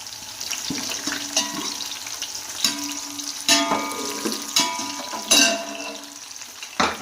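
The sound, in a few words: onions frying with whole spices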